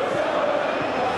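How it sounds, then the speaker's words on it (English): Football stadium crowd at a Champions League match between AC Milan and Bayer Leverkusen, a broad roar of cheering that holds steady through the whole short moment, with no single voices standing out. "the crowd clearly like what they just saw"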